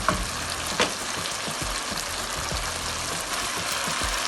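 Radish pods sautéing in a pan hiss and crackle in a steady sizzle, punctuated by a few clicks and a small splash as they are added and stirred.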